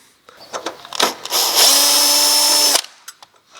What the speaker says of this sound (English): You can see there the T25 that you need to undo in order to be able to release this black plastic trim.